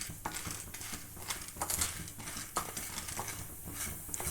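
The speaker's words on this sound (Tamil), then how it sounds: "மூணு மிளகாவை வரமிளகாய் எடுத்து போட்டுக்கலாம் இது நல்லா கொஞ்சம் கலர் ஆகிற மாதிரி வறுத்து எடுக்கலாம்" Dried red chilies dry roasting in a pan, with faint rattling, scraping and stirring taps spread through a quiet, even background.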